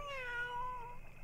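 A cat meows inside The Sims video game, a single drawn-out, falling meow lasting about a second, clear and fairly close against a faint background hum.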